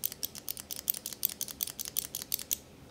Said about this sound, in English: Here's the click.